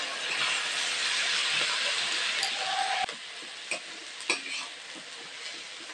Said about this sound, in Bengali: আলুটা সেদ্ধ হয়ে গেছে, এরপরে ভালো করে ভেজে নেব।